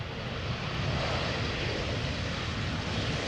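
An airliner on landing approach at Amsterdam Schiphol Airport, its jet engines giving a steady, broad roar that holds at a moderate, even level throughout, with no talk.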